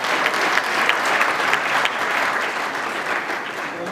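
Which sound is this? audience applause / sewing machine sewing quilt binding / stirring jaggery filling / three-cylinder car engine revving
audience applause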